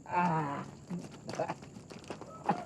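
Goat bleats loudly at the start, followed by faint rustling and a few short animal calls in the background.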